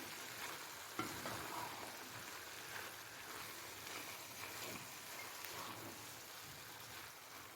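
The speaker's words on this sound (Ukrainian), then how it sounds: "Все це гарненько перемішуємо." Buckwheat with minced meat and mushrooms is stirred in a pan, giving a steady low sizzle and faint scraping throughout.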